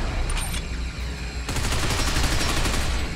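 Rapid bursts of automatic gunfire crackle in the Binary Domain video game shooter, a short volley followed by a denser, louder sustained stream of shots, close and sharp throughout.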